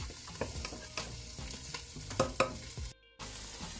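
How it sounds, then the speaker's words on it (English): Onion and garlic paste with seasoning sizzle in olive oil while a utensil scrapes and taps the pan at irregular intervals. The sizzle cuts out briefly near the end, then resumes. "saute this up for a minute."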